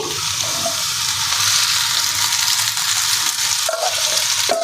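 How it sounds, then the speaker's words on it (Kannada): Boiled vegetarian Hakka noodles tossed into a sizzling tempering in a hot pan: a steady, close, loud sizzle with stirring scrapes and occasional brief watery bursts, no talking. "ಓಕೆ, ಇವಾಗ ನಾನಿಲ್ಲಿ ಬಸ್ತಿ ಇಟ್ಕೊಂಡಿರೋ ನೂಡಲ್ಸ್ನ ಈ ಒಗ್ಗರಣೆಗೆ ಮಿಕ್ಸ್ ಮಾಡ್ತೀನಿ ಹಾಕಿ"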